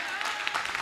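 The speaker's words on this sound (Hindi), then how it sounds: "आप सभी की अनुमोदना है कि नहीं? ताली बजाइए।" An audience at a Jain religious ceremony claps, a dense wash of applause from many hands, steady and moderately loud over a brief moment, with a voice partly mixed in.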